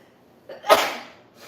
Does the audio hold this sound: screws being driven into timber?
no